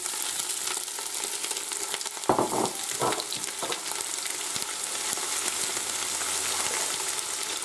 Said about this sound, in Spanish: Ahora echamos la cebolla para rehogar.